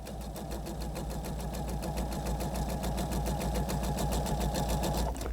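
A sewing machine runs continuously, stitching quilt squares onto the corner of a large block, its rapid even needle clatter rising slightly in loudness and then stopping near the end.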